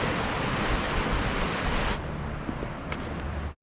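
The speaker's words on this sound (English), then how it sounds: "Just listen to those waves." Surf breaking on the rocky coast near Lynmouth, a steady broadband roar of sea waves that eases slightly partway through, with no talk over it.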